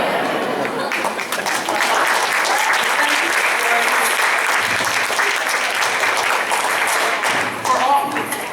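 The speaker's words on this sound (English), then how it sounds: "For all of you who have clapped and who have expressed an interest in more civic engagement" Audience at a Baltimore mayor's cultural town hall at the Maryland Historical Society breaks into sustained, dense clapping that stays steady and loud throughout, with a few voices mixed in.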